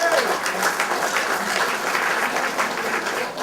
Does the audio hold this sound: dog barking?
no